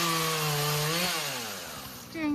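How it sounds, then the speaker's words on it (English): Out in the countryside a chainsaw cuts branches off a tree, its motor whining high and then dropping in pitch as it bogs into wood before revving back up, close and loud. "I can hear chainsaw noises in the background"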